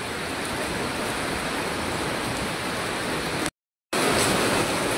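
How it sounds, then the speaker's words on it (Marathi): Small waterfalls beside the Marleshwar temple, an even, continuous roar of splashing water close by, briefly cut to silence for a moment before resuming. "इकडे बघा साईडला छोटे छोटे पण धबधबे आहेत."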